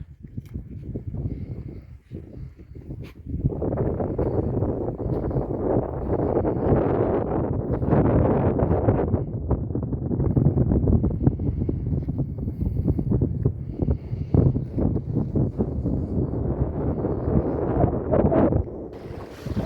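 Steady wind buffets the microphone in a loud, rumbling roar at the Tyligul estuary shore, starting after a quieter opening and gusting throughout.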